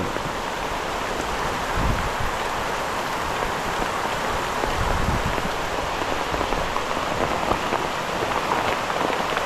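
Steady rain patters on surfaces, a dense, even hiss with scattered droplets, continuous and fairly close, with no one speaking.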